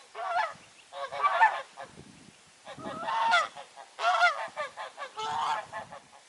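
A mother goose honks repeatedly over her newly hatched goslings on a UK smallholding, loud harsh calls coming in several close bursts with short pauses between them.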